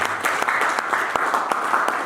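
A church congregation claps together in dense, steady applause with a few sharper slaps standing out, loud and close and lasting the whole moment.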